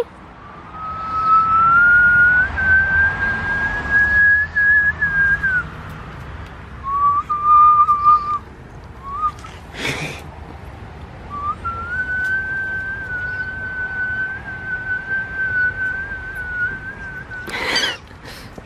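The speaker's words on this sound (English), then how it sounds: "He likes whistling." Sustained whistled notes rise and hold in long steady tones, with a pause and then another long held note, amid background room noise and a couple of sharp clatters.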